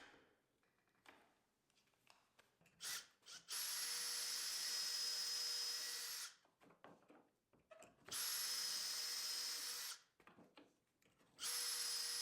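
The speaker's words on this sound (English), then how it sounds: "to make the holes, I'm using a doweling jig" A power drill whines loudly in three sustained bursts of a few seconds each, boring dowel holes in hardwood with a doweling jig, with quieter handling clatter and bumps in the pauses between.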